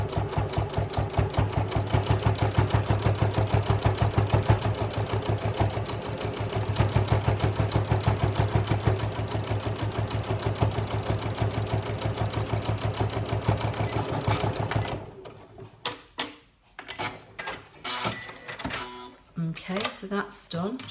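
A sewing machine rattles in a fast, even stitching run while sewing a fabric notebook cover, close and loud for about fifteen seconds, then slows to short stop-start bursts.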